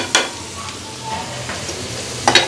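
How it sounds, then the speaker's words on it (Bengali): Fried egg and vegetables for fried rice sizzle gently in a pan as a spatula scrapes and stirs in a few short strokes, nearby and clear. "ডিমটা ভাজা শেষ, এখন আমি এগুলোকে সবজির সাথে মিলিয়ে ফেলছি।"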